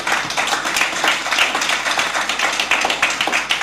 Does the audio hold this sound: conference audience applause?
yes